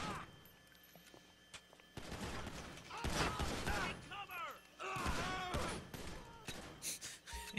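Gunfire from an enemy in GTA 5 rattles in fast bursts of shots with mechanical clatter between them, moderately loud and set against a low background.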